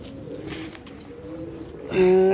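Pigeons cooing on a rooftop loft, a low steady murmur of soft coos through most of the moment, swelling into a louder, sustained close coo at the end.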